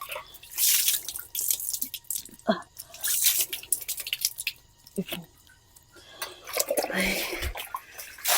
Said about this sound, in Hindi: तो ठंडे ठंडे पानी से हम लोग मुँह धो लेते हैं।